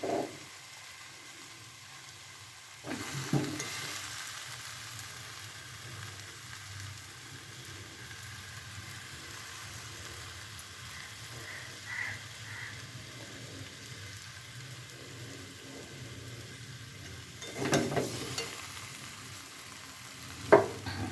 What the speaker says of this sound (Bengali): আলুটা একটু কষে নিই